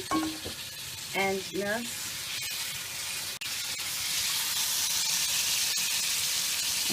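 Meat with its juices sizzles loudly in a pan of spices while a Rogan Josh cooks, a steady broad frying hiss filling the whole stretch with a brief voice near the start.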